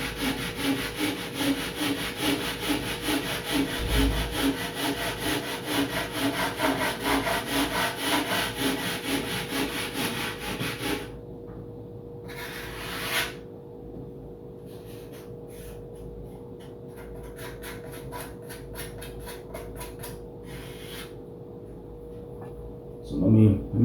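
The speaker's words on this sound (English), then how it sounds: "I'm just rasping away, keeping it nice and straight on all the way through" A rasp scrapes wood on a model airplane horizontal stabilizer for a giant-scale P-47 Razorback, with steady back-and-forth strokes for about eleven seconds, then it stops and only faint handling noise remains.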